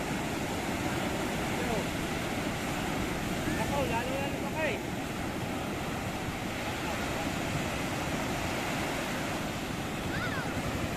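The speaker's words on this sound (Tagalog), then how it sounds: "Lakas ng agos." A strong sea current and big waves give a loud, continuous broadband roar that stays steady throughout, thick with wind buffeting against the microphone.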